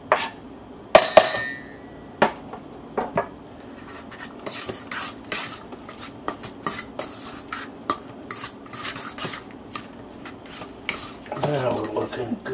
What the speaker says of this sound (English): Dump in the onion, the garlic, the pickle, the celery.